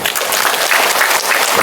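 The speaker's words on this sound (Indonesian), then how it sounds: "Beli tepuk tangan." An audience at an Islamic boarding school sermon gathering claps in dense, steady applause, loud and close throughout the short stretch.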